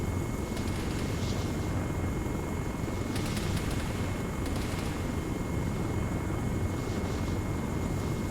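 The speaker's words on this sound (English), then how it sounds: "Lift the Chinook." A video-game Chinook helicopter lifts off, its steady rotor and turbine roar filling the scene with a few brief higher flutters rising over the drone, and no voices.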